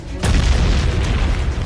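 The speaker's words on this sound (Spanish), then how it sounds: "el terrorista más buscado del mundo despierta sobresaltado por una explosión." A deep explosion booms as a sound effect, starting suddenly and holding a loud, rumbling roar throughout.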